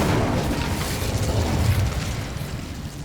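A cast Incendio fire spell in Hogwarts Legacy sounds as a dense, roaring whoosh of flame that stays loud and steady for about three seconds with a deep rumbling body and no speech.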